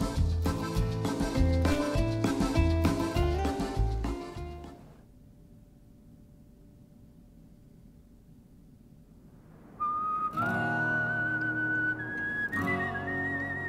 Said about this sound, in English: every Wild Wild West movie has to have whistling